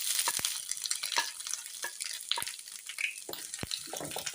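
Ginger sizzling in hot oil while mango pickle is being made, a steady soft crackling hiss broken by scattered sharp pops, close and continuous with no talking.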